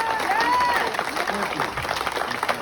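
Crowd applause at a political speech, dense clapping with scattered cheers and voices in the audience, brief and fairly loud.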